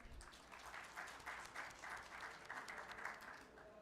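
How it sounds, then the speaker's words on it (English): Audience applause at the GCC Summit 2025 breakout session, many hands clapping in a dense, even roar that carries on for the whole few seconds at moderate distance, fairly quiet overall. "big round applause for him"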